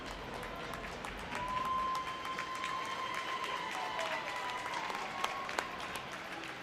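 Steady applause from a large crowd in an echoing hockey arena, with scattered sharp claps and a faint whistle tone running underneath.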